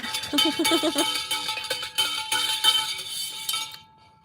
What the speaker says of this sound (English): You can hear me stirring, folks.